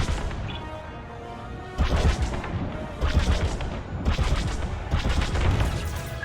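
Starfighter laser cannons blasting in Star Wars Squadrons, with bursts of sharp, crashing shots arriving in three clusters of rapid fire over a steady engine drone, no voices.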